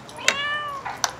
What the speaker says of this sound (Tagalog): Ay, naglapitan na po yung mga pusa.